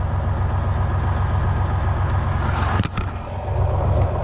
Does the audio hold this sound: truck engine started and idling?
yes